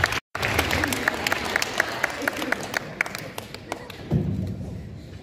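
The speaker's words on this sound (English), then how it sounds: "can we please give a round of applause to Trooper Scott Poynton" Audience applause for a Colorado State Patrol trooper at a rural driving safety event, steady clapping with sharp individual claps throughout, a brief dropout near the start and a heavier thud-like swell toward the end.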